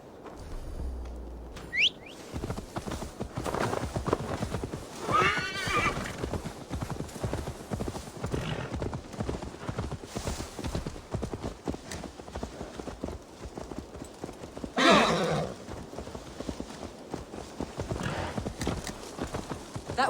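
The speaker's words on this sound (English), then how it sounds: "Now to deliver Magni his horse." Steady clip-clop of horse hooves in Assassin's Creed Valhalla, a continuous rhythmic trot heard up close at moderate volume, with a brief whinny near the start and faint whistling and birdsong in the background.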